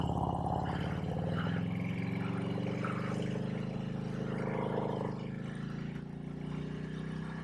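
A Harley-Davidson Road King motorcycle cruising, a steady low engine drone with rumbling exhaust and wind noise, constant and moderately loud throughout.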